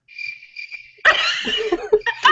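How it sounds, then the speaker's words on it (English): Cricket chirping sound effect played over a live Big Brother 16 recap, an even pulsing trill for about a second before voices and laughter burst in and take over. "making the cricket noises"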